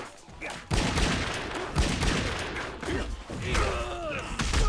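Several loud gunshots and impacts in the video game Mortal Kombat 9, spaced irregularly across a few seconds amid game effects, with a player's voice occasionally over them.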